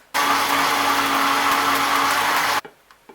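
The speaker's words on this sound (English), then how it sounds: "I'm just going to blend the country onion with the fresh spices" A kitchen blender grinds country onion with fresh spices for Cameroonian ekwang, a loud steady whirring motor that runs continuously for over two seconds, then cuts off abruptly leaving a few faint knocks.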